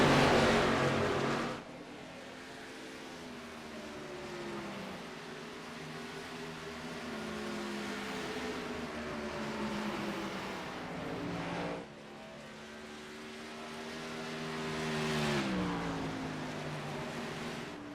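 Race cars in a sim racing game circle the Iowa oval, engine tones rising and falling in long sweeping pitch changes, with a near car fading as another passes by.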